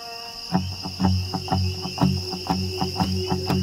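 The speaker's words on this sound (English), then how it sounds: "The place is crawling with bugs." Insects chirp at sunrise in a rhythmic pulse of about seven evenly spaced cricket-like trills over a steady high whine, moderately faint and alone.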